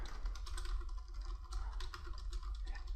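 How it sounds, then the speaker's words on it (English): Steady typing on a computer keyboard, a close, quiet run of rapid key clicks at an even pace with no voices over it. "I could type whatever I want in here."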